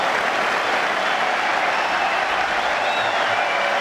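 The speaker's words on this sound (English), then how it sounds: "Listen to the crowd." A tennis crowd applauds a rally between Murray and Gasquet, a steady, dense wash of clapping that holds at an even level without a break.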